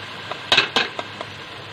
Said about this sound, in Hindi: अब इसमें जाएगी दही, और इसे अच्छी तरह मिक्स कर दें।